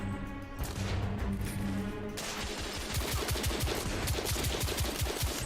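Gunfire from The Order: 1886, set in Victorian London, starting with a sustained roar and breaking into a fast, evenly spaced burst of loud shots, each with a slight kick, with no talk.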